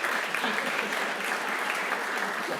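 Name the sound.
audience applause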